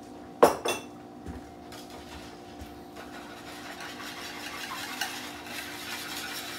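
Sour cream is stirred in a pan with a utensil, a couple of sharp clinks against the pan at the start, then soft scraping and mixing that continues quietly alone.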